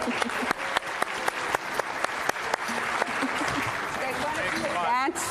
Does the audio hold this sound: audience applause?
yes